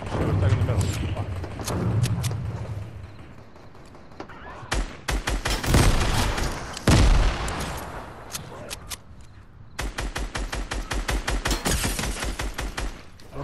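Gunfire in a first-person shooter video game: rapid bursts of automatic fire and single sharp shots come in dense clusters, loud and close, with some softer weapon clatter between volleys.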